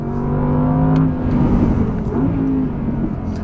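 An Audi R8 V10 Quattro Performance driving, its mid-mounted engine giving a steady, loud droning hum with a slight rise in pitch, heard from inside the car with no talking.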